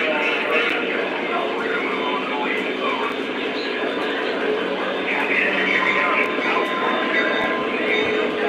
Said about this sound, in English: I'm gonna push these train cars the opposite direction